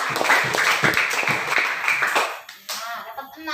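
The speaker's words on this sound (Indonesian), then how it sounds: "Beri tepuk tangan untuk Ehsan." A classroom of students claps for a pupil, dense overlapping hand claps for about two and a half seconds, then trailing off as a voice starts speaking.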